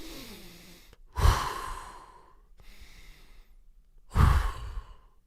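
Deep breathing by one person, two long, loud, close breaths with sighing exhales, separated by quieter breathing and a short pause, no speech.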